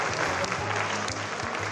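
An audience claps at a Hindi poetry recital, a steady wash of hand claps lasting under two seconds with some low murmuring underneath.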